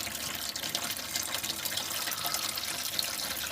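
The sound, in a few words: engine coolant draining out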